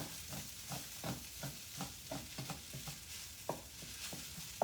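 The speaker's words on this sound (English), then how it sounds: "We have to stir this all up." Sticky rice being stirred in an oiled pan, a regular rhythm of soft scraping strokes over a faint steady sizzle, close and quiet, with no talk.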